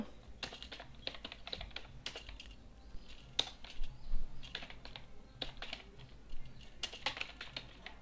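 Computer keyboard typing entering a code comment in ActionScript for Flash CS5, a close, irregular run of crisp key clicks with brief pauses, no voices.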